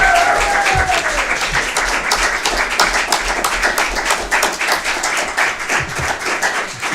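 Applause breaks out at a city council meeting in Pasadena after a unanimous vote, a dense, sustained patter of clapping from a roomful of people that carries on for several seconds.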